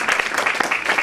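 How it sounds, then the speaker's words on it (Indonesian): A church congregation claps together in dense, steady applause during a sermon, loud and close, filling the whole short moment. "Kasih tepuk tangan buat Tuhan Yesus."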